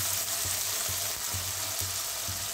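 Bay leaf and ground coconut paste with ginger, chili and tomato sizzling loudly in hot oil for ghugni, a dense continuous frying hiss up close with faint rhythmic stirring thumps underneath.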